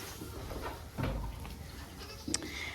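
Goats bleat inside a barn, two short cries about a second apart over a low background murmur, fairly close.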